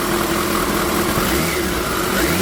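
A brand-new 2012 Kawasaki ZX14R Ninja motorcycle engine runs at a steady, loud idle after being started, holding an even drone with no revving and no talking.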